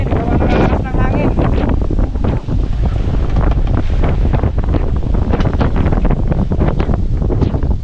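Strong typhoon wind roars steadily and loudly into the microphone aboard a boat, gusting and buffeting without letup, with a voice speaking under the din.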